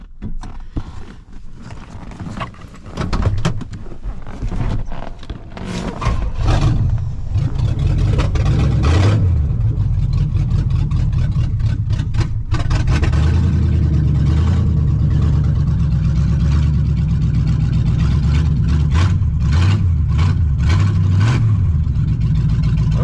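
A 1969 Pontiac Bonneville 428 V8 station wagon, a barn find parked for 45 years, cranks and catches, then settles into a loud, rough, steady idle. Its engine note rises and falls in several revs.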